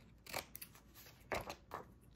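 Scissors cutting card for a handmade Christmas card, two or three short, soft close snips in quiet surroundings.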